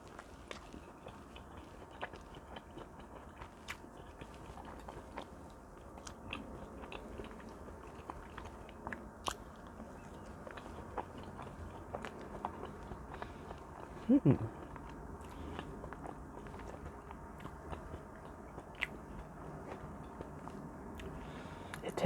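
Homemade blueberry pancakes eaten close to the mic, soft repeated bites and moist chewing with quiet mouth sounds throughout, low and intimate, without talking.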